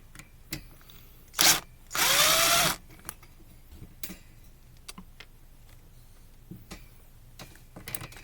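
Power drill backing screws out of a Mainstays 9-inch fan guard: two short whirring bursts, the second longer, close and loud against a quiet room with light clicks.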